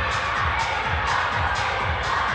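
A Montenegrin crowd cheers and shouts at a men's doubles teqball final in Podgorica, a loud, steady roar with rising whoops throughout, no talk over it.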